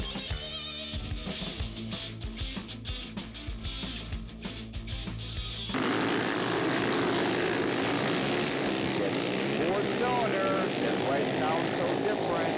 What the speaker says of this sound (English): That 4-cylinder Yamaha. We got a 600 engine in there. It's purring.